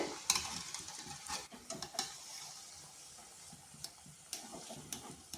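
Semolina sweets fry in oil with a soft continuous sizzle, broken by scattered stirring clicks and scrapes, fairly faint and close with no talking.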